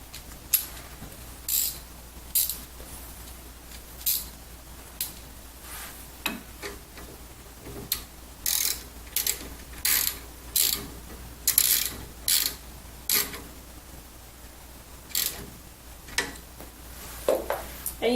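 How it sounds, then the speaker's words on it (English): A 13 mm socket wrench ratchets a bolt tight, giving short bursts of crisp clicking repeated in an uneven rhythm, close and fairly quiet with brief pauses between strokes. "using your 13 millimeter socket wrench, you can go ahead and now fasten the bolt"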